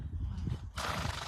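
A horse gives a sharp, breathy sneeze close by, a single burst of snorting air over faint background noise.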